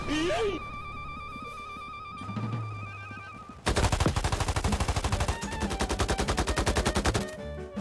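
Rapid automatic gunfire in the Roblox FPS Riotfall, loud, close bursts of steady repeated shots lasting several seconds after a quieter stretch with game tones, then a sudden stop.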